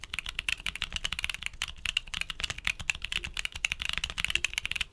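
Steady typing on a mechanical keyboard fitted with Gazzew U4T tactile switches, a close, busy stream of clacky keystrokes with a continuous rhythm and no pauses or voices.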